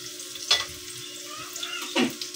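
Garlic and onion sautéing in a pan for mung bean stew, a steady sizzle with two louder bursts of frying, close by and with no talking.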